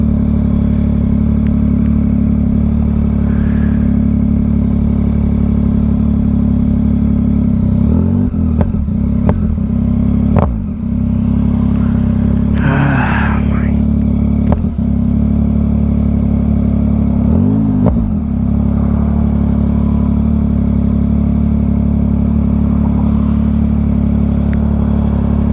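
A motorcycle engine, just refitted with its ECU and showing a check engine light, idles loudly and steadily nearby with a few brief revs and clattering noises.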